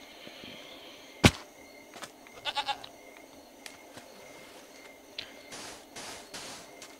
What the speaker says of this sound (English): Shut up, goat.